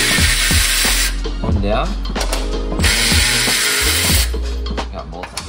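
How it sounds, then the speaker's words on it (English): A ratchet loosens the exhaust downpipe nuts on a Toyota Supra, clicking loudly and quickly in repeated strokes with short pauses, close up. Someone speaks briefly over the work. "I'm gonna break it loose with my regular ratchet first."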